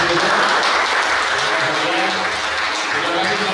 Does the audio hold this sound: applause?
yes